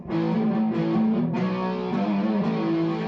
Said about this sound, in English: when I go to patch 3, I want to bring the distortion in